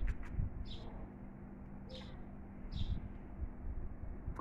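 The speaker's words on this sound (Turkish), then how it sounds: "Kuşlar çok güzel ötüyor." Birds chirp in a garden: three short, high chirps come about a second apart, moderately close, over a steady low outdoor rumble.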